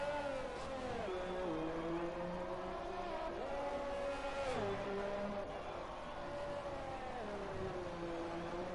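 Race car engine in an F1 video game, droning steadily as the driver weaves to warm the tyres, its pitch sliding up and down in repeated swells throughout, loud and continuous with no talk.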